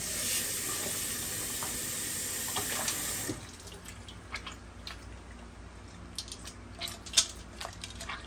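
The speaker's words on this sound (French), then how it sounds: "Mettre de l'eau dedans." Water running into a cooking pot while lamb cutlets with massalé are made: a steady, loud rushing stream for about three seconds that stops abruptly, followed by quieter kitchen clinks and drips.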